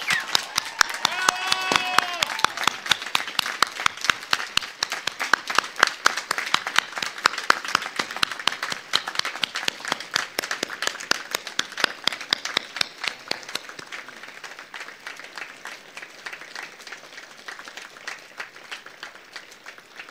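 Graduating students at a university commencement ceremony give long, dense applause from a large crowd, loud at first and then gradually thinning out, with a brief vocal sound near the start.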